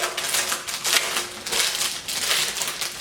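A cheap spiral-bound paper notebook being opened, with crisp rustling, crinkling and clicking of pages and cover, close and fairly loud, no talking.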